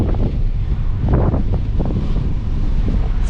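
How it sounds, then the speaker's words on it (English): Strong, steady wind buffeting the microphone at rising mountain altitude, a loud continuous roar with gusty surges throughout. "It's getting windy."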